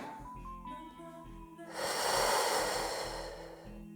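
During a prenatal pilates exercise at home, a woman breathes softly and then lets out one strong, audible exhale that lasts about two seconds, with no talk.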